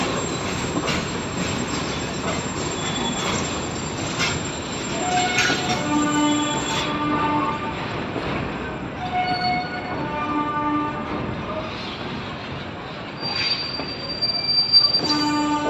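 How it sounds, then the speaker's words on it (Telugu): A heavy, loaded train rolls slowly over a newly built railway underpass in Anantapur, wheels squealing and screeching loudly in long drawn tones over the steady rumble and clatter of the passing wagons, with no talking. "నీట్గా వెళ్ళిపోతున్నాయి ట్రైన్స్."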